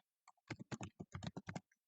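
Fingers type a short burst of keystrokes on a computer keyboard, a quick uneven run of about a dozen crisp clicks, close and clear with no voices.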